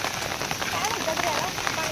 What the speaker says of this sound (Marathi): नुसताच पाऊस आहे, कंटिन्यू पाऊस आहे मित्रांनो इकडं